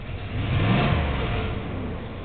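A car engine idles close by with a slight vibration like a misfire, a low, steady rumble that swells briefly and then settles back.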